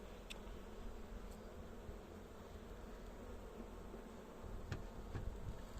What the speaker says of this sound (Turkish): Bu arada arılar saldırgan olabilir şu an.